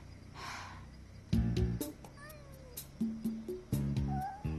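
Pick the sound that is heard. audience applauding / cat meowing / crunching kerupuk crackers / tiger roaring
cat meowing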